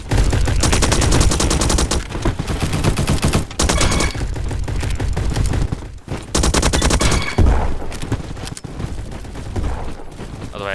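Skorpion vz.61 submachine gun fires in the video game Bad Business, loud rapid bursts of automatic gunfire nearly continuous across the clip, broken by a few brief pauses, with a voice faintly underneath.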